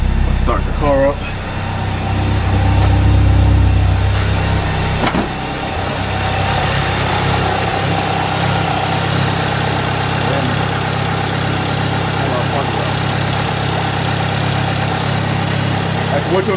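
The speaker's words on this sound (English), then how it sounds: "Start the car up." A car with a junkyard replacement engine starts and settles into a steady idle, with a continuous low hum and rumble that runs on evenly throughout.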